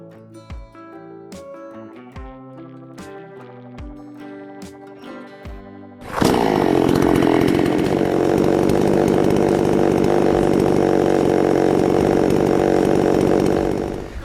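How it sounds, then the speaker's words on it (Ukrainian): A Vital gasoline chainsaw, being broken in, starts abruptly and settles into a loud, steady idle that holds to the end, after a stretch of background music before it. "запустити двигун та дати йому попрацювати до 5 хвилин на холостому ходу"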